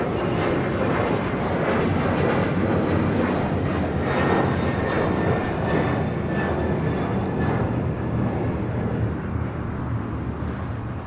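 An Alaska Airlines Boeing 737-900ER takes off at LAX, a loud broad continuous jet engine roar with rumbling low end that stays steady throughout.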